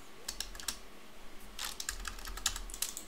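Someone types a command in a Linux shell on a computer keyboard, short clusters of crisp key clicks with brief gaps, close and quiet, with no talking.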